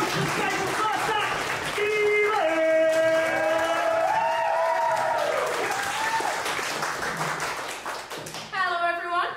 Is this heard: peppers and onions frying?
no